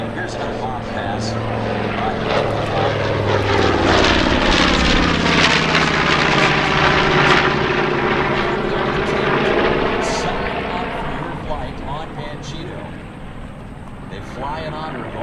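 A B-25 Mitchell bomber, the historic Panchito, roars past on a bomb pass at the 2019 New York International Air Show, its piston engines swelling loud and then fading, with an announcer talking over the drone.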